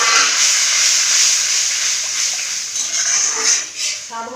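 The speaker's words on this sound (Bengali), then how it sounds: "এবারে আমি দিয়ে দিব জল" Water hits a hot pan of melted tomato gravy, setting off a loud, steady sizzle and steam hiss that tapers and flickers toward the end.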